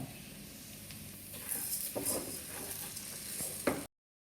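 Rice being stirred into onions browning in a hot pan for a lemon risotto, giving a steady soft sizzle with scraping stir strokes that grow slightly louder midway, heard alone at close range.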